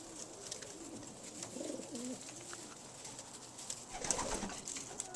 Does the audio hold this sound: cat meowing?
no